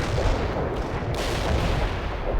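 An artillery barrage in the video game World in Conflict rumbles as a dense, continuous roar of heavy shell blasts and booms, loud and sustained throughout.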